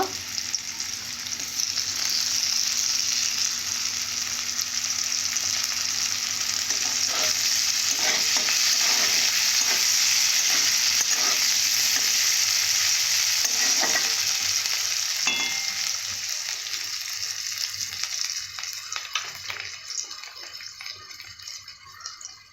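Chopped tomatoes sizzle steadily in a hot pan for a stretch, with scraping stirs and occasional clinks over the continuous frying hiss, which fades toward the end.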